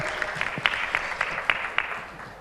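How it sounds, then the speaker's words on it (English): Applause for winners at the Team Europe Green Conference 2023, a modest round of clapping with several distinct sharp claps standing out, fairly faint and tapering off toward the end. "Let's give another applause for our winners here."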